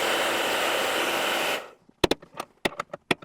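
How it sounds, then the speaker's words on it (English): A hot air gun blasts steadily for about a second and a half while a heated grip is eased onto a Honda CRF300 Rally handlebar, then cuts off, leaving a few sharp clicks and knocks close by. "I'll just give you another quick blast of it"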